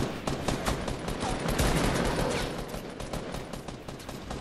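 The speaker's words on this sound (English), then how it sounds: "Oh shit, we're getting shot at!" Dense, continuous gunfire in the video game Fortnite, many overlapping shots crackling in a sustained barrage that swells and fades slightly, fairly distant and busy.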